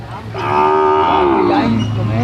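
A cow at a Thai cattle market gives one long, loud, close moo that rises, holds, then bends down, over a low background hum.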